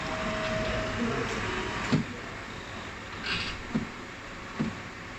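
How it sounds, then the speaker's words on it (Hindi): An HP OfficeJet 4500 printer-scanner runs its alignment routine: a steady mechanical whir and hiss with a few soft clunks and thumps from the scanner mechanism, fairly close. "दोबारा से आपने ओके का बटन प्रेस करना है ताकि स्कैनर भी अपनी अलाइनमेंट एडजस्ट कर ले"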